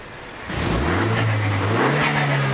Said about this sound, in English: we're going back old school now, 90s, listen to the dump valve